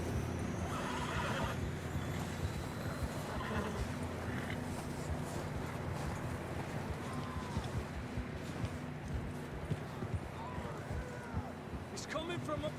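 Horses in the Red Dead Redemption 2 video game, with neighs and hoof clatter over a busy, noisy background of movement; voices are heard talking throughout.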